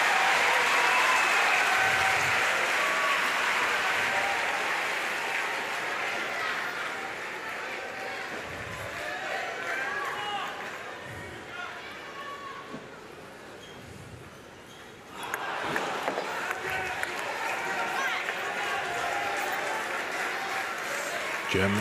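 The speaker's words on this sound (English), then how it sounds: "German coach applauding that shot." Sustained crowd applause fills the arena at a Paralympic wheelchair table tennis semifinal, loud at first, easing into a softer patter, then swelling again, while a commentator talks over it.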